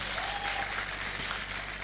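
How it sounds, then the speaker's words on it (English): Steady audience clapping for a group at a 9mobile hackathon event, a soft, even wash of hands heard at a moderate distance without voices on top. "Please clap for them."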